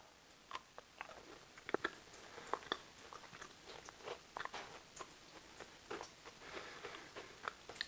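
Close, crisp crunching bites and chewing on a freshly baked, cooled gingerbread cookie, with irregular clicks and crumbly crackles repeating quietly and steadily for several seconds with no talk.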